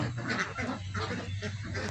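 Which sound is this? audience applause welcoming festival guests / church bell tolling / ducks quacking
ducks quacking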